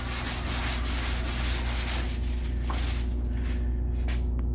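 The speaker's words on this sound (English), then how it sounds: "I'm gonna go ahead and block sand the rest of the cab" A sanding block rubs back and forth across a car cab's body filler in rapid, rhythmic scraping strokes that soften partway through, over a constant low workshop hum.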